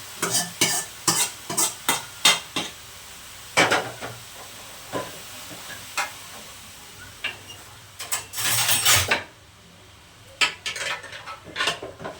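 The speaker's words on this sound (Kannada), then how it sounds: "ಬೀಟ್ರೋಟ್ನ ಹಾಕ್ಕೊಂಬಿಟ್ಟು ಚೆನ್ನಾಗಿ ಮಿಕ್ಸ್ ಮಾಡ್ಕೊಬಿಡ್ತೀನಿ" A spoon scrapes and stirs grated beetroot in a hot frying pan, with repeated sharp clinks against the metal and a soft sizzle underneath, close and fairly loud, no talk.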